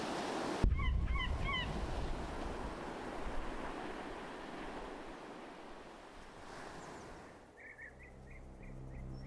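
A bird honks in the video game Forlorn Hope, with a quick run of honks near the start and another short series near the end, all over a steady wash of surf and wind.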